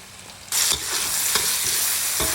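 Fermented pork sausage being stir-fried with seasonings in a wok for a kale dish: a loud, steady sizzle bursts in after a brief quiet start, with repeated scraping stirs of the spatula throughout.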